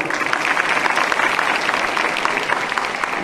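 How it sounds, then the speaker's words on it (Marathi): An audience claps steadily at a felicitation ceremony honouring an athlete on stage, a dense, even roll of many hands continuing without a break at moderate level. "एकदा जोरदार टाळ्या चालू होत्या मित्रांनो"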